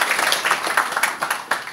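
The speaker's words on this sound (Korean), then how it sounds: "뜨거운 박수로 좀" Applause from a seated audience at a talk or forum, a moderate patter of clapping with distinct individual claps popping out in an uneven rhythm.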